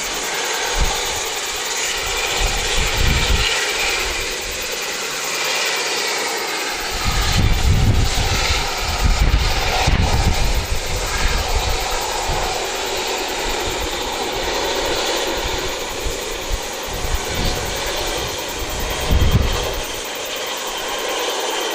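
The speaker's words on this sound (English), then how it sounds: "It's a flight that's just come in from Blenhiem" A fixed-wing propeller aircraft arriving at Wellington Airport on a short flight from Blenheim, its engine drone broad and steady for a long stretch, with low rumbling surges rising and falling.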